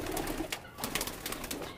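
Soft, faint pigeon cooing and rustling up close as a female pigeon sits on eggs, a brief low murmur with no talking.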